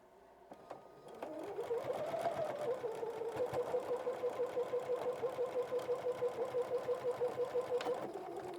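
A sewing machine stitching t-shirt patchwork squares for a pumpkin project, steady close rhythmic whirring and clacking that starts after a moment and runs continuously to the end.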